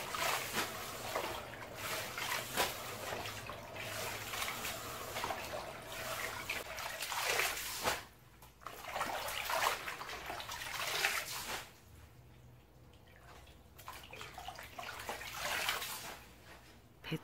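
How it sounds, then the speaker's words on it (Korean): Young cabbage being rinsed in water makes a steady splashing and trickling with brief pauses, close by, with no talk. "뒤집어서 1시간 정도 후에 물로 깨끗하게 두번 정도 씻어 줍니다"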